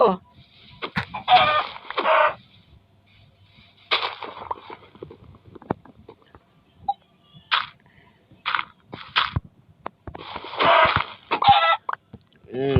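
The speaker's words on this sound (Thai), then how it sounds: "ไก่ฟรี" Minecraft chickens cluck in short, scattered bursts separated by quiet gaps, fairly close and clear, with some talking mixed in.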